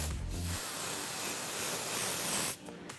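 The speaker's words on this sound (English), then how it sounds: "I'm actually going to let the spray rain down in a very fine mist over Tatiana's hair." Joico Body Luxe hairspray mists steadily over a person's hair in a long, even hiss lasting about two seconds, close and loud, then cuts off abruptly; a brief low rustle comes just before it.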